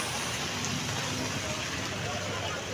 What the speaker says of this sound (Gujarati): ફૂલ વરસાદ ભાઈ ફૂલ